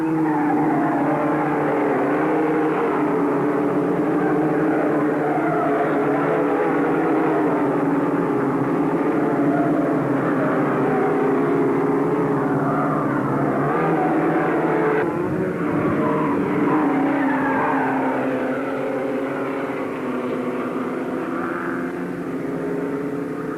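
Formula Vee race cars in a 1984 South African race, several engines droning and rising together in a dense, continuous roar as the pack runs close, with a brief shift in pitch midway and no talk.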